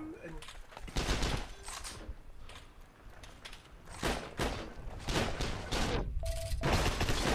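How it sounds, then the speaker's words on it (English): Bursts of submachine gun fire from an M3 grease gun in a World War II shooter game, several loud volleys separated by short pauses, with other game sounds mixed in. "I'm hearing a grease gun."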